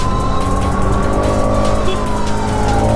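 An ambulance siren wails, rising and falling over loud, steady traffic and the rumble of a Bajaj Pulsar RS200 motorcycle, sounding close by as vehicles move along the road.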